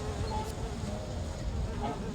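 Bees from the video game Sudeki buzz around honey hives in a continuous, fairly close drone with slight wavering pitch and no talk over it.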